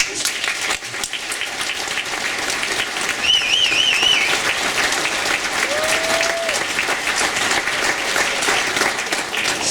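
Audience applause at a school charity concert, a dense and steady round of clapping from a large crowd that carries on for about ten seconds, with a few high whistled tones rising over it.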